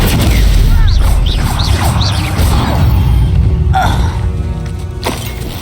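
A fiery Confringo blasting spell explodes in the video game Hogwarts Legacy, a loud booming burst with whooshing swishes and crashing debris, followed by fainter impacts and rumble.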